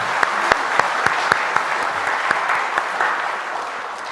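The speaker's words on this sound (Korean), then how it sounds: "영광과 감사의 박수를 네. 드리겠습니다." A church congregation gives sustained applause during a Sunday worship service, a broad even wash of clapping with a few sharper claps standing out close by.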